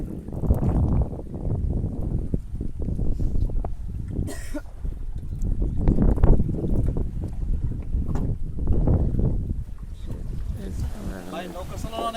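A small wooden boat is pushed along through water hyacinth on a river in Faridpur, with soft splashing and wind noise under near, frequent conversation.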